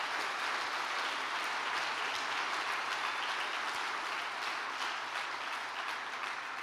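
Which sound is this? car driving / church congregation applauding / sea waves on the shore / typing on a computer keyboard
church congregation applauding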